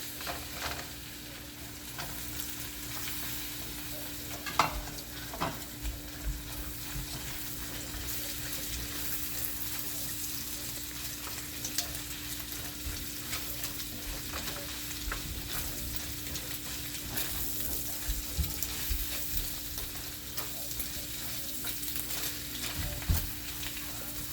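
Eggs stir-fried with chicken in a pan for chicken fried rice give a steady soft sizzle with occasional scraping stirs, fairly quiet and continuous throughout.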